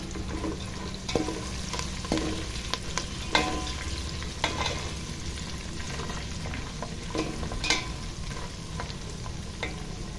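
Chillies fry in hot oil for crispy paper poha, a continuous close sizzle broken by scattered pops and the clinks and scrapes of stirring in the pan, with nobody talking.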